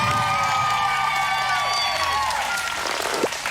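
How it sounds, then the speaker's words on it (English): Studio audience on a science game show breaks into loud applause and cheering, with whoops and children's shouts over a dense wash of clapping and some background voices. "Round of applause."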